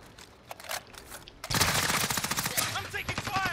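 Rapid bursts of automatic gunfire from a competitive video game crackle sharply after a quiet opening, with a player's voice faint beneath the shots.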